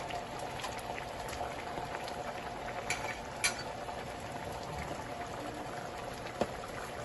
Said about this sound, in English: We have the eggs here boiling.